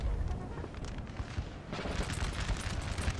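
Sustained rumbling battlefield din from Napoleon: Total War, with dense overlapping cannon and musket fire that swells into a louder, busier barrage partway through, continuous and fairly loud throughout.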